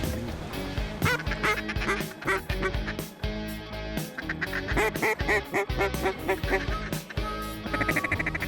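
Ducks quacking on the Mississippi River, teal, merganser and mallard among them, with a dense run of overlapping calls that is loud and busy across the whole stretch, almost unbroken.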